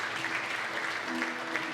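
Church congregation applauding together, a steady dense patter of hands at moderate volume with a faint tonal hum underneath and no talking.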